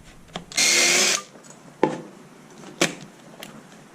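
Power drill driving a screw into a wooden stud behind plywood bunk-bed fronts in a converted school bus: one loud, close half-second whir, then scattered knocks and clatter from handling the wood and tool.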